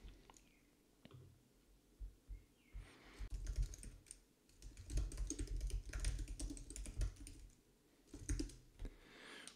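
Computer keyboard arrow keys pressed while steering a game character built in Ruby with Ruby2D, a close run of irregular clicks and taps, sparse at first, then dense bursts of repeated keystrokes with brief pauses.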